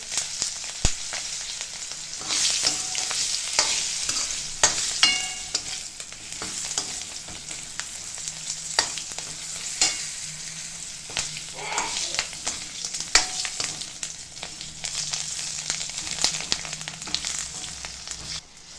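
Green chillies with turmeric sautéing in a pan for kadhi, a loud continuous crackling sizzle with frequent spoon stirs and scrapes, close up.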